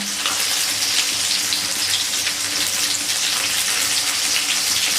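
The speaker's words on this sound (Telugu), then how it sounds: "మంచిగా ఫ్రై కావాలి ఆనియన్స్" Onions frying in oil in a pan for lemon rice, a dense continuous crackling sizzle, close and steady throughout.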